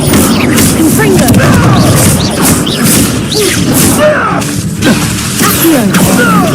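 A Confringo blast spell exploding in Hogwarts Legacy, loud booming impacts and whooshes amid dense game effects, with a voice speaking over the din.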